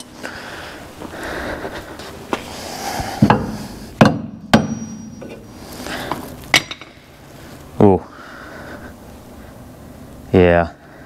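Scattered metallic clanks and knocks from a hammer hitting metal on an abandoned 1961 Ford Falcon, several uneven strikes close by, mixed with clattering and brief scraping sounds.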